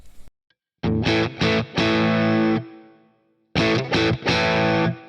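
Electric guitar through a Boss Katana amp with its limiter switched off, played as loud distorted chord stabs in two bursts with a ringing decay and a silent gap between them.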